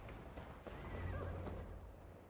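Horse neighing with galloping hoofbeats in Assassin's Creed Valhalla, a steady rumble of hooves under a rising whinny, fairly close and continuous throughout.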